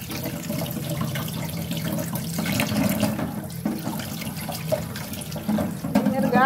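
Eggs are scrubbed and rinsed under a running kitchen tap, a continuous hiss of flowing water with irregular splashes and handling noises throughout, with a voice talking over it in places.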